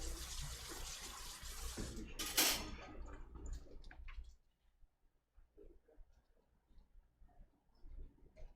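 Water runs from a kitchen tap to be boiled for coffee, a steady splashing stream for about four seconds that stops abruptly, followed by quiet clinks and small handling noises nearby.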